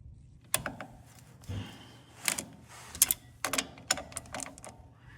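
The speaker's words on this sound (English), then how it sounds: "now I just need to use a breaker bar on all 4 of these bolts here." Ratcheting clicks and metallic clanks as a breaker bar loosens bolts on a Jeep front driveshaft, coming in short irregular bursts close by over a low background hum.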